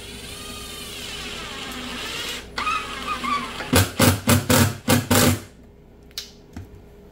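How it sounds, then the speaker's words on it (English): A power driver drives screws into a glued and caulked wood joint in a quick series of about six loud, close ratcheting bursts, followed by a couple of faint knocks. "And then we're going to run some screws right down the top."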